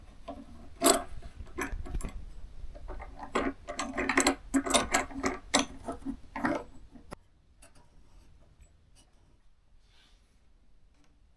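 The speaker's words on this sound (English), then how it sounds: "Let's try out the clamps." Cheap clamps for a circular-saw guide rail ratchet and rasp in a series of quick, close mechanical clicks and scrapes, then the sound gives way to quiet.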